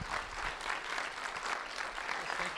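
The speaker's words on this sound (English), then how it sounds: "I want everyone in the audience to now give you a round of applause" An audience in a hall breaks into a round of applause, a soft but full, continuous spread of many hands clapping at moderate distance, steady with no speech over it.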